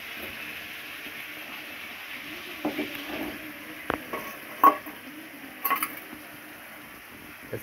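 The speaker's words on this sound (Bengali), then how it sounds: "এই কাঁকড়া তো আমি গোলাচ্ছি এবারটা কত সুন্দরভাবে দেখেন" Crab curry with coconut milk being stirred in a pot, giving soft scraping and stirring sounds with a faint sizzle, broken by a few sharp clinks of the utensil against the pot.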